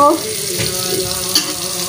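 Eggs fry with coriander in a pan, producing a brief steady sizzle with a faint tap near the end.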